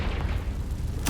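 Confringo spell explosion in Hogwarts Legacy, a loud, low, rumbling boom that fills the moment and decays, with a sharp burst at the end.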